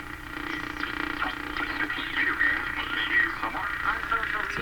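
A Philco Model 42-322 tube radio plays steadily with faint, hissy broadcast audio and a whistling interference tone, heard close and continuous.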